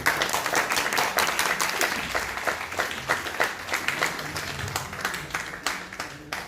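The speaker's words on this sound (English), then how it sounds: "So just they deserve a clapping now" An audience applauds for certificate winners at a ceremony, a loud, continuous wash of many hands clapping that holds steady throughout and thins slightly toward the end.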